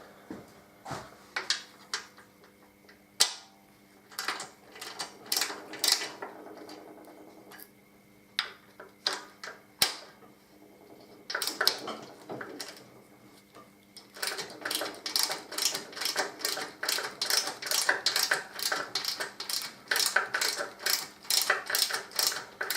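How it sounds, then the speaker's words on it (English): A ratchet loosens bolts on a Harley-Davidson Deuce while the gasket cracks free, heard as scattered bursts of close metallic clicking that settle into a quick, even run of clicks at the end, with no talking. "You can actually hear the gasket releasing. That's what them like crack noises are."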